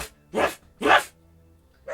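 A dog named Oda barks at night, two loud sharp barks close together and the start of a third, with quiet gaps between.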